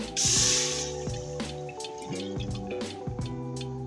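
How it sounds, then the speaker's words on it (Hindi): Water poured into a pressure cooker while cooking beef gravy, a steady splashing, trickling stream close by with ringing tonal overtones from the metal pot, loudest at the start and continuing throughout. "प्रेशर कुकर में ½ लीटर में पानी डालूंगी"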